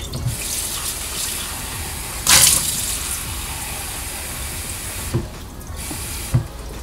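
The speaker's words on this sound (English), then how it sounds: "But we pour out this clean water right here and then pour some water from the sink." Tap water runs steadily from a kitchen sink faucet into a filter pitcher, a continuous close hiss and splash with a brief louder gush and a couple of small clunks, no talk.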